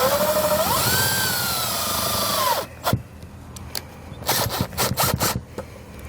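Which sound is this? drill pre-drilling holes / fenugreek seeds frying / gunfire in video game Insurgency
drill pre-drilling holes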